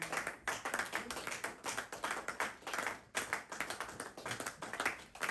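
Applause from a congregation at a French-language church service, rhythmic, sustained hand clapping that stays steady and fairly close from start to end, with no talking.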